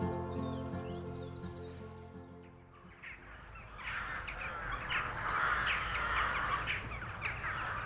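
Rooks caw in a wintry Anatolian landscape, a dense chorus of harsh calls building from a low rumble into a busy, fairly distant flock.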